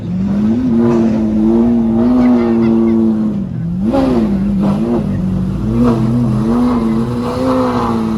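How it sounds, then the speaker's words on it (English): Powerful Lamborghini engines, including a Gallardo and an Aventador SVJ, rev and roar up close, pitch rising and falling in repeated surges, with a rumbling idle between bursts. "if you could hear the sounds of the Lamborghinis going on right now"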